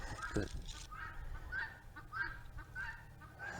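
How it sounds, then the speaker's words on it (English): Guinea fowl squawk repeatedly in a rhythm of harsh, cackling calls, fairly close and loud against a steady low background hum, heard in an outdoor farm setting. "guineas are squawking"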